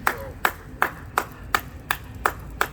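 One person claps eight times in a steady, even rhythm, each crisp clap close and clear with nothing else over it.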